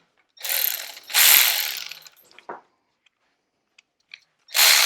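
A ratchet tightens 10 mm bolts on a vintage Honda CT70 motorcycle in a garage, with two bursts of rapid clicking, a short third burst and a final run, close and crisp.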